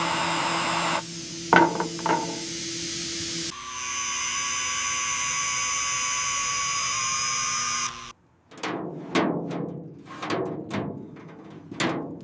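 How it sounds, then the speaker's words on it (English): Cutting tools and hydraulic equipment dismantle a Rolls-Royce Phantom, first with a steady high whine and sustained machine drone, then a run of sharp, repeated metallic impacts and scraping bursts, close and loud. "Workers use cutting tools and hydraulic equipment to dismantle the remaining structure."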